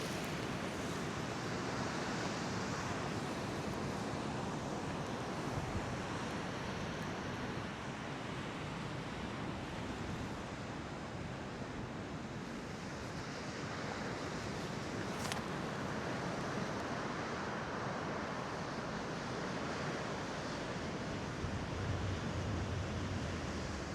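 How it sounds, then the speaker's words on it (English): Big ocean waves break along the coast in a continuous wash of surf, a steady moderate roar with some wind noise mixed in and no voices. "Ooh, some big waves there."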